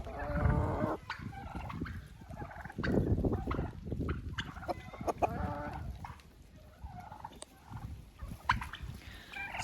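Hens and roosters in a chicken coop cluck and call repeatedly at close range, overlapping in irregular bursts against a busy farmyard background.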